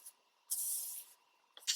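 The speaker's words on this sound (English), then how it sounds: "I spray some water on my plate" A spray bottle mists water onto a plate for paper crafting. One sustained close spritz lasts about half a second, and a shorter second burst follows near the end.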